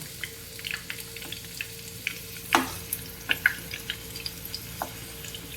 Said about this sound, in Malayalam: നമ്മുടെ ബജി മുളകിൻ്റെ ഒരു സൈഡ് മുരിഞ്ഞ് വരുന്നുണ്ട് അപ്പം നമുക്കത് പതിയെ ഒന്ന് മറിച്ചിട്ട് കൊടുക്കാം